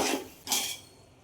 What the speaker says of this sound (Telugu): ఇప్పుడు మూత పెట్టుకున్నాం అండి.